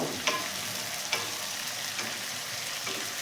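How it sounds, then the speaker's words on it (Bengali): Chopped onions with salt frying in a pan for a mutton curry, a faint, steady sizzle with a few soft clicks of stirring. "দিয়ে পেঁয়াজটা ভাজবো"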